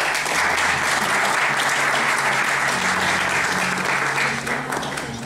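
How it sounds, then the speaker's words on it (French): Steady applause from an audience, a dense wash of clapping that holds for several seconds before easing slightly at the end. "On l'applaudit, s'il vous plaît."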